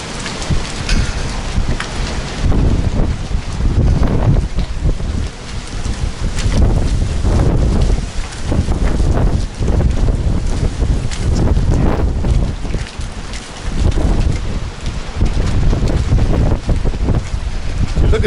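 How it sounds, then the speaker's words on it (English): Loud gusting wind buffeting the microphone with heavy rain, a constant roaring storm rising and falling in waves, during Mediterranean hurricane Medicane Ianos at sea. "It's really getting windy and stormy now."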